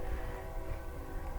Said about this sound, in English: You can hear my train in the background.